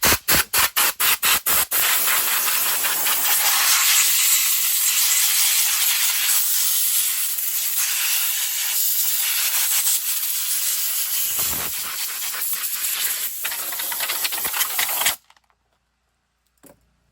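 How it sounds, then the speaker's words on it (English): Air compressor air gun blowing dust off a chainsaw filter, a few short sharp blasts, then a long loud continuous hiss at close range that cuts off abruptly. "Air compressor, air gun, air blower."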